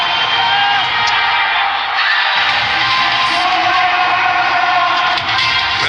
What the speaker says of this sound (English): Crowd still here, thousands still here in fact